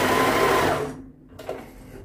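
A domestic sewing machine stitches knit fabric for a pair of trousers, running in a loud, steady motorized whir for about a second before stopping, followed by quieter handling noises.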